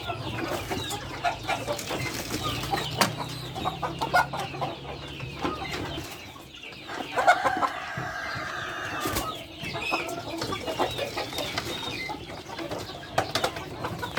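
Free-range village chickens (ayam kampung) cluck in a coop on a farm, a busy mix of clucks, calls and occasional wing flaps at moderate volume, with no talking.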